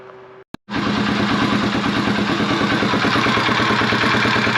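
A Honda XL250 motorcycle, which has an oil leak at the base gasket, starts after a brief silence and a click, then idles loudly and steadily with an even low thumping rhythm close by.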